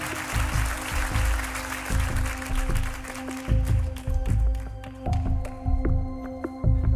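Sustained concert audience applause, with many hands clapping, loud and continuous over a low rumble, gradually thinning into sharper individual claps near the end.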